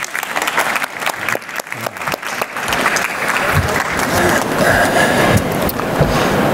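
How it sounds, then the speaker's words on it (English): Audience applause greets the Wizz Air CEO walking on stage at World Travel Market, a broad wash of clapping that thickens and holds steady after a sparser, choppier start. "let's give a warm round of applause"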